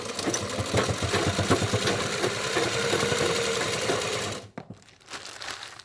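A sewing machine stitches a fabric bag, its rapid mechanical needle rhythm running steadily and fairly loud for about four seconds before cutting off into quieter handling noise.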